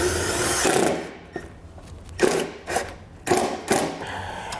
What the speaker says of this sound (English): I'm also going to use a self-tapping screw to run up through there